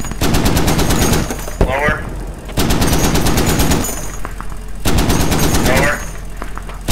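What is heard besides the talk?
machine gun fire in a video game, HMMWV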